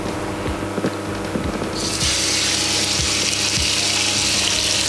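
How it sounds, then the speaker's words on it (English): Beef browning in hot oil in a pan for beef stroganoff, a dense continuous sizzle that jumps louder partway through as more meat hits the oil, with small clinks and scrapes of the utensil underneath. "add oil to a hot pan. And to that, we will start browning the meat"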